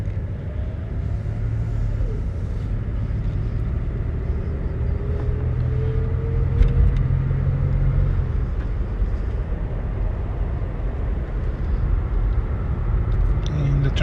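Inside a 1984 Mercury Grand Marquis Colony Park LS station wagon while driving, a low, steady road and engine rumble fills the cabin, quiet and even, with a voice talking over it.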